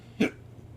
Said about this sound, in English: Great, I have hiccups.